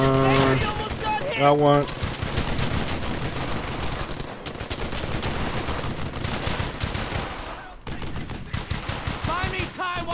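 Rapid machine-gun bursts and rifle gunfire in the WWII video game Brothers In Arms: Hell's Highway, loud and nearly continuous, with soldiers' voices shouting over the shooting.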